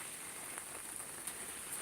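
Steady rain falling in Salerno on a gloomy day, a soft continuous hiss with occasional faint drop ticks, quiet and even throughout with no voices.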